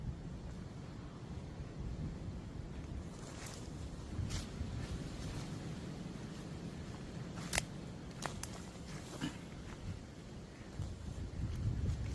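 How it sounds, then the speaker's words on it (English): Low, rumbling wind buffets the microphone outdoors on a high spot in Cornwall at night, a steady muffled roar with occasional faint clicks and scrapes. "It's really windy up here tonight, so it might be hard to hear."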